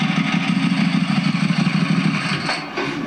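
A Ducati motorcycle engine with a swapped exhaust runs steadily and loudly up close, a continuous throbbing idle that holds for about three seconds with no talk.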